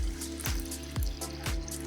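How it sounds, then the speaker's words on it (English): Water gurgles as it is poured into the reservoir of a Ninja Slushi machine, a close, steady trickle marked by a few regular glugging pulses, with no one speaking. "This gets filled in with water here."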